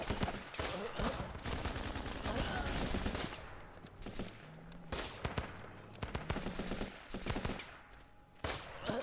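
Dense gunfire from the war game Running With Rifles: rapid bursts of rifle and machine-gun shots crackle almost without pause, loud and close, with brief lulls between volleys.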